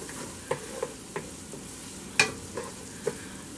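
Minced garlic sautéing in butter in a soup pot, with a low steady sizzle and several sharp clicks and scrapes from stirring, the loudest near the middle.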